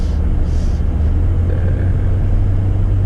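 A 2019 BMW M5 V8 holds a steady, deep, loud burble at near-constant revs from inside the cabin, with no one talking over it.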